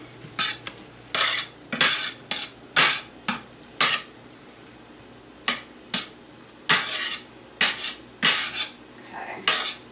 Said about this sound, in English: Just mix it up really well. So it'll make sort of a gravy sauce.